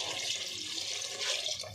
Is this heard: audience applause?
no